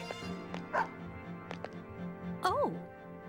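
Koromaru, the stray shrine dog in the game Persona 3 FES, gives a couple of short yips and whimpering barks over a steady game music bed, with a rising-falling whine near the end.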